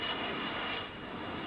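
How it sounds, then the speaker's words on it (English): A plane on approach to LaGuardia passes overhead during a 1973 US Open tennis match, a steady, fairly distant engine roar that fills the background and eases slightly toward the end. "All the planes going to LaGuardia."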